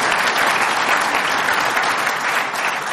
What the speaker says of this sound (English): So let's give a round of applause for all the people who are behind this effort.